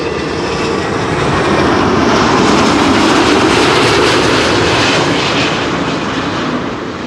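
Airliner landing on runway 06, the Kaagbaan, at Amsterdam Schiphol, a loud broad jet roar swelling and then easing slightly, heard alone without voices.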